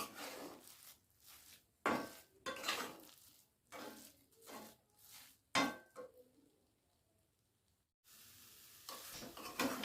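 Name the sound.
stirring cardamom powder into carrot sweet mixture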